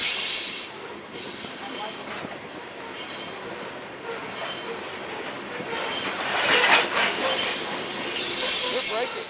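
A Norfolk Southern freight train braking on the center track, its steady rolling rumble laced with bright, hissing wheel and brake squeal that swells in bursts, loudest near the end.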